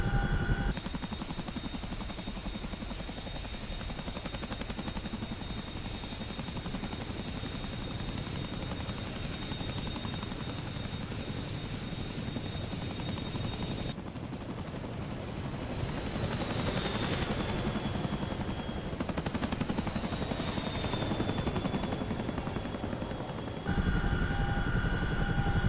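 A Chinook twin-rotor helicopter flying in the DCS combat flight simulator, a loud, steady rotor and engine drone that runs on without a break, with a brief rise in whine partway through.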